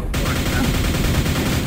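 Quake video game combat with a rocket launcher and lightning gun firing, a dense, loud burst of continuous crackling gunfire and blasts filling the whole short stretch.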